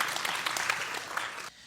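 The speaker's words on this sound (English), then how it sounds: "I think that deserves some applause" Applause for a former high school teacher of 17 years, a full crowd clapping steadily and moderately loud before it cuts off abruptly near the end.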